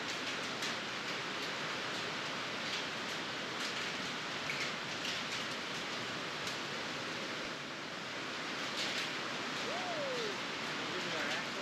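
Rain pours down in a steady, dense, even hiss that stays constant throughout, fairly quiet overall.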